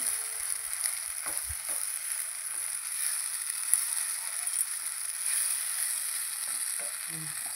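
Spices with a little turmeric sauté and fry in a pan, producing a thin, continuous high sizzle, with occasional soft stirring knocks and scrapes.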